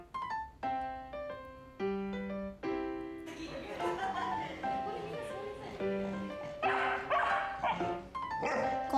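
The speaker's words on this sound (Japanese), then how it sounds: "ワンって言ってる。" Several dogs of various breeds bark and yip at a dog café, with short repeated calls over tonal background music while a person talks nearby.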